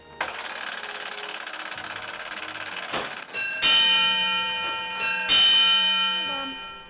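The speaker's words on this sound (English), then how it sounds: "The bells ring to alert the firefighters, while the tape register tells the fire department which firebox went off." A loud, harsh fire alarm telegraph bell rings continuously, close by, with a few sharp metallic strikes hitting on top partway through.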